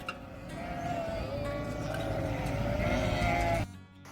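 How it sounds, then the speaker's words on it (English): Several sheep bleat loudly and continuously, overlapping calls close by, with no talking. "Happy sheep, cool sheep."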